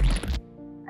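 A frog in a foggy bog gives a loud burst of croaking at the start, followed by a sustained tonal sound and a brief noisy flare at the end.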